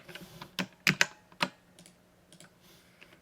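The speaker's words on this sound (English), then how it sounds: "Clicking is hard." Sharp clicks from a computer mouse or keyboard during a strategy video game, a few distinct taps clustered close together and then sparser faint clicks, close and fairly quiet with no talking.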